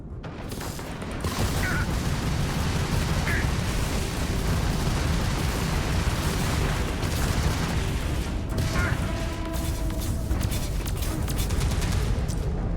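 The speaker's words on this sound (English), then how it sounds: "We're opening fire." Ship weapons fire steadily through a Starfield space battle, a dense, continuous wash of mechanical bursts and rumbling impacts running for most of the stretch, with a few faint electronic chirps layered on top.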